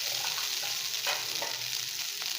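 Cooked rice being stirred and mixed in a hot pan for pepper rice prasadam, a soft steady sizzle broken by several scraping spatula strokes at an uneven pace, close and without speech.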